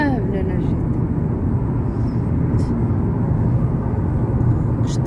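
An airplane passes overhead with a loud, steady engine roar and rumble, while voices talk over it.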